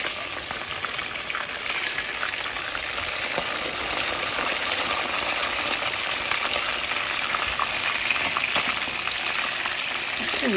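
Whitefish fries in a pan with a steady, dense crackling sizzle that continues without a break, close and fairly loud, with no voices.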